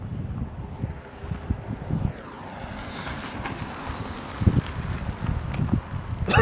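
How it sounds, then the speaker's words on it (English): Strong, cold wind gusts buffet the microphone beside the CSX River Line railway, a rough, rumbling roar that swells and dips throughout. "It's really cold out right now because it's very, very windy."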